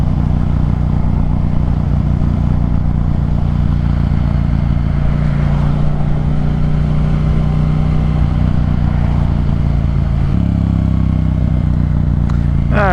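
A scooter engine braking on a downhill ride, its engine note droning steady and loud beneath wind rush, with a shift in pitch near the end.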